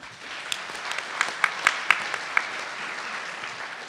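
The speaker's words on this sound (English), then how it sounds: "If everybody agrees to a 1 minute, clap your hands" Audience at a hate crimes listening session clapping hands in agreement: a short scattered burst of claps with a few sharp louder ones standing out, over a background murmur.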